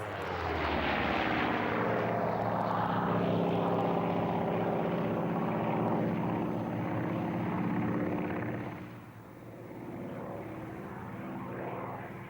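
A Grumman Bearcat fighter from the Second World War performs aerobatics at the Duxford airshow, its piston engine roaring loudly with sweeping Doppler rises and falls as it passes, then fading slightly into the distance.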